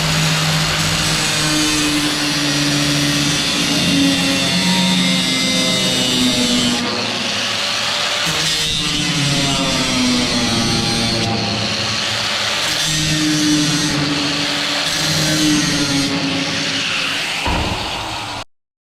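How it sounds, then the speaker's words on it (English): An angle grinder cuts through a metal pipe by a duck pond with a loud, continuous high whine that shifts in pitch as the load changes, running for many seconds and cutting off abruptly at the end. "We'll do it with the grinder."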